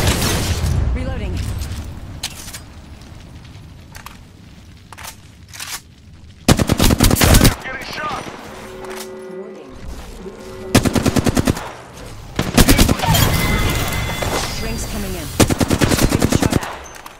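Bursts of automatic gunfire in the battle royale video game Apex Legends, several loud rapid volleys separated by quieter stretches, with game announcer voice lines between the shots.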